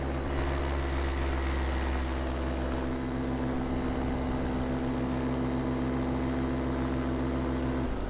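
A paramotor engine drones steadily in flight above Rocky River in North Carolina, a loud, close, continuous propeller hum with a constant pitch and no talking.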